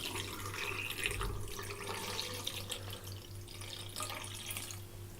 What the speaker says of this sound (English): Now the fixer is poured in.